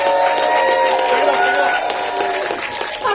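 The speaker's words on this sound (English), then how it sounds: "Round of applause justified for Mako there." Crowd at a pro wrestling show applauds and cheers for wrestler Mako, a dense, steady wash of clapping and voices with shouts rising over it throughout.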